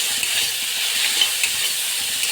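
Spiced food with turmeric and chili powder sizzles steadily in a hot pan as it is stirred and sautéed, producing a continuous close frying hiss with faint scraping underneath.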